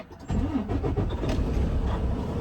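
A semi truck's diesel engine runs steadily at idle after loading a Midwest flatbed with roofing materials and pipe, a close, smooth and quiet rumble holding even throughout.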